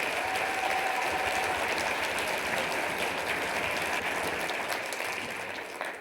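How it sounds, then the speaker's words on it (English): An audience at a club business expo applauds, a thick, steady roar of many hands clapping that holds throughout and begins to fade at the end. "Can we get a round of applause for all of them?"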